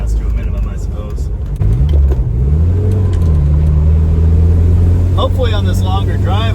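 A 1981 Dodge Challenger's engine under way on a drive, a low steady rumble that swells and rises in pitch as the car accelerates, with someone talking over it.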